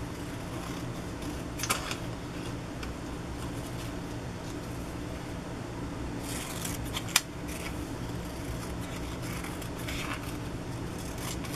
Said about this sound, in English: So first I'm going to cut this image out.